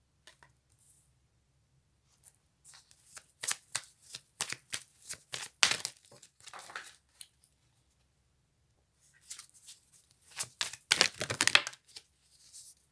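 Tarot cards shuffled by hand in two separate bursts of rapid papery riffling and flicking, close and crisp, with a quiet pause between them and no voice.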